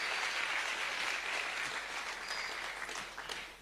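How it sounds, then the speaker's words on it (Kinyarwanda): Leaders in an audience clap their hands together, a dense, steady wash of applause that stays loud throughout and thins slightly toward the end, with no talk over it. "Let the leaders clap their hands."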